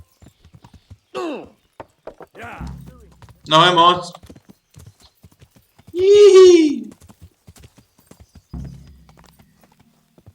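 Horse hooves clip-clopping in Kingdom Come: Deliverance, steady close footfalls running throughout while someone speaks and calls out briefly over them.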